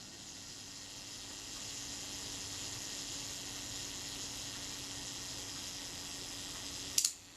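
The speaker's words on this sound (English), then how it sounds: "The self timer is running down." A Rolleicord Va camera's self-timer runs with a steady low mechanical hiss for several seconds, then the shutter snaps sharply once near the end, followed by quiet.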